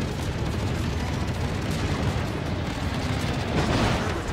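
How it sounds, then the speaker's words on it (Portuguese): Continuous dense rumbling barrage of distant bursts and booms, steady and loud throughout, from the battleship Wyoming's anti-aircraft artillery fire in World of Warships. "O tiro de artilharia antiaérea."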